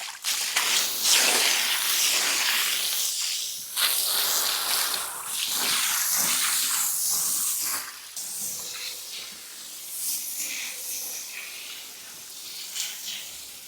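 Fresh water rushes steadily into a fish farm tank, a loud continuous hiss and splash that swells and dips in bursts and then eases to a softer flow, with no voices.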